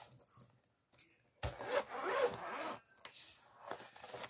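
A pencil case is unzipped in two close strokes: a short rasping pull followed by a longer, louder zipper run, after quiet handling sounds.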